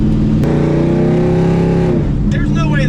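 A truck pulling hard from a stop, its engine note climbing loud and close before the pitch drops at a gear change and builds again, with a voice briefly audible.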